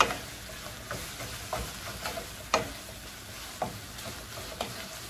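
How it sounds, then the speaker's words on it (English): Cooked shrimp and their juices stirred through in a pan for shrimp udon noodles, with scattered scraping and tapping strokes of the utensil over a soft, steady sizzle, close and fairly quiet. "So, give that a quick stir."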